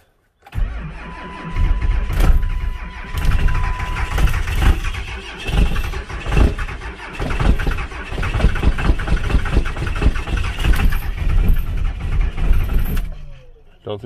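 A 7.3 diesel truck engine cold starting at -3°F, cranking and catching into a loud, rough, clattering run that continues steadily before cutting off at the end.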